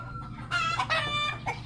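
Backyard chickens cluck and squawk in several close, loud bursts over a steady low background hum around a rural home.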